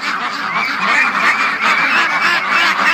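A flock of ducks and geese honks and quacks continuously nearby, a loud, dense chorus of overlapping calls with no talking.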